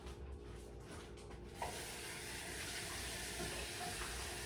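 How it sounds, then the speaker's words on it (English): Tap water pours steadily into a dog's water bowl, a close, continuous hissing stream that starts about a third of the way in and runs to the end, with no talking. "let me get my dog some water"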